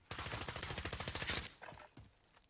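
Rapid automatic gunfire in Call of Duty, a loud sustained burst of evenly spaced shots lasting over a second, then a few scattered impacts and fading echoes, with no talk.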